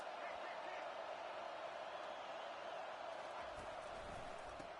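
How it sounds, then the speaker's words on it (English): A packed football stadium crowd roars in a steady, loud, dense wash of noise that fills the whole stretch, with a voice talking over it. "Listen to this crowd just shaking the girders of this place, trying to help their defense"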